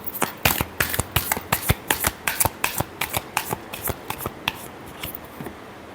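Tarot cards being shuffled by hand during a reading: a rapid, steady run of crisp riffling flicks, about a dozen close, distinct bursts that fade toward the end, with no speech.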